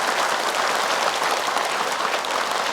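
A studio audience at an Indonesian religious television talk show applauds steadily throughout, a dense, even wash of clapping with no voices on top.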